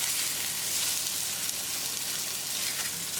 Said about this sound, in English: we'll give it a stir so it doesn't stick to the bottom of the pan